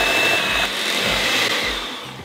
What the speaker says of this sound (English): I'm going to get the hand mixer